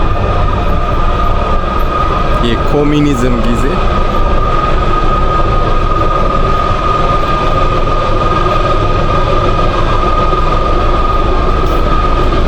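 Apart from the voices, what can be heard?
old Soviet-era train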